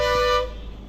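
A single sharp vehicle horn toot on a steep mountain hairpin road at the Agumbe ghat, loud and close, cutting off after a brief blast and leaving faint road noise.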